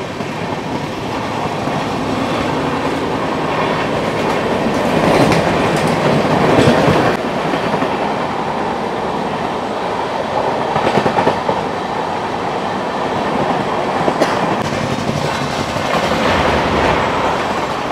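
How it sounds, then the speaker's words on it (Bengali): An express train thunders past up close while racing a local train, a loud steady rumble of rolling wheels with rhythmic clickety-clack and rushing air, no voices. "ভারতবর্ষের দ্রুততম ট্রেনের সাথে ভারতবর্ষের দ্রুততম লোকাল ট্রেনের রেস, এবার রাজধানী এগিয়ে গেল।"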